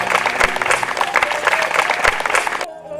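An audience at a village sarpanch election rally claps steadily, a dense, loud burst of applause that carries on without a break and then stops abruptly near the end.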